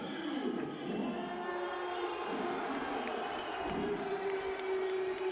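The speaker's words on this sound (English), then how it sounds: "The crowd going absolutely mad with the announcement that Lee Murray is the new world light cruiserweight champion" A boxing arena crowd roars as a new world light cruiserweight champion is announced. The cheering is a sustained, distant-sounding wash of noise that stays at an even level throughout.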